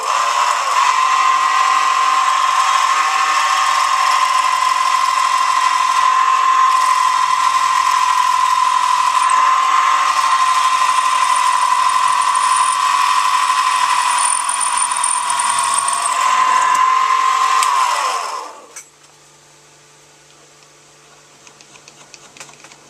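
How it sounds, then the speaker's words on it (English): Drill press spot drilling a metal base, a loud, steady whirring grind of the spindle and cutter running for nearly twenty seconds before winding down and stopping, leaving faint workshop noise. "now ready to start spot drilling this here"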